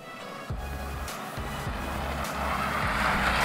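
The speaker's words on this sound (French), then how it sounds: "On est à bord du Mitsubishi Eclipse Cross, un VUS qui vient s'insérer entre le RVR et le Outlander." A Mitsubishi Eclipse Cross SUV on a road drive in rural Quebec, with a steady engine and road rumble from inside the cabin and a few rhythmic low thumps, no talk.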